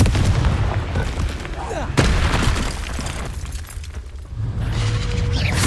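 Fire-blasting spell explosions from the Hogwarts Legacy video game: loud, dense booming bursts with crackling, shattering debris and mechanical clatter, a sharp blast near the two-second mark, filling the whole clip.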